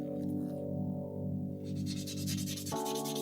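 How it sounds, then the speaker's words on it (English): Coarse grit sandpaper rubs across a hand-carved netsuke, a continuous close dry scratching that holds steady and then shifts pitch near the end, with no voices. "First, she uses coarse grit sandpaper to erase the marks left by the carving tools."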